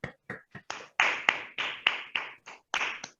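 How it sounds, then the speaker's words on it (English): A small audience at a Toastmasters club meeting claps in sparse, distinct claps, about a dozen sharp slaps spread over a few seconds with short gaps between them. "Let us give Lalit Dhanush a big round of applause"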